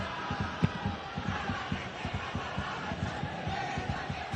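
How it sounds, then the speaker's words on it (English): PES 2021 stadium crowd: a steady, dense murmur of spectators with rhythmic low thumping, like chanting or drumming, running throughout at moderate distance. "The crowd appreciates good football all round there."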